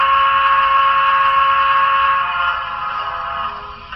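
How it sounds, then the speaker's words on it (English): Whistle of a Broadway Limited model train locomotive: one sustained steady tone held for about two and a half seconds, then fading quieter, close with no talking. "I got a whistle."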